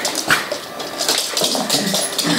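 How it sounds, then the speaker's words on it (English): A dog gives a few close, yipping barks and whimpers amid a noisy, busy background, with no clear speech. "that would be a much better bark"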